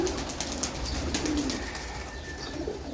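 Pigeons coo softly at a nest with chicks, low repeated calls mixed with faint chirps and rustling, fairly close and steady throughout.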